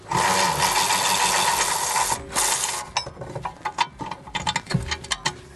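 Long brake caliper bracket bolts being unscrewed on a VW-group car during a brake job: a steady, loud mechanical whirring and rattling at first, then breaking into quick, uneven ratcheting clicks.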